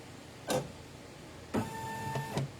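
An embroidery machine stitching a design for pageant wear makes short whirring bursts separated by quiet gaps, faint and close, with no talking.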